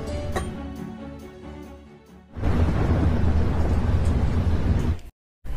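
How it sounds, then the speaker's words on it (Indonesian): Thunder from a lightning strike rolls in as a loud, sustained rumbling roar after a quieter, tonal opening, then cuts off abruptly near the end. "Namun langit yang mengirimkan petir seakan-akan tidak merestui Bang MC."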